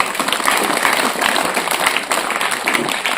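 Dense, steady applause from an audience at a spiritual discourse on raising children, sustained at an even level throughout with no voices over it.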